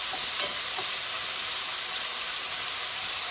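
Kale frying in a pan, a steady close sizzle and hiss that stays constant, with a few faint stirring clicks near the start.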